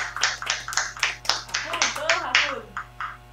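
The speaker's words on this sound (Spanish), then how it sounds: "Así que también un aplauso para los adultos que están acompañando en este servicio." Youth gathering at a faith event where a small group claps for the adults serving, a run of sharp, evenly spaced claps close by with a voice talking over the last part.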